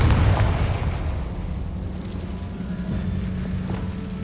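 A Confringo blast spell explodes in Hogwarts Legacy, a single deep boom at the start that rumbles loudly and then fades into a low, sustained roar with no talking.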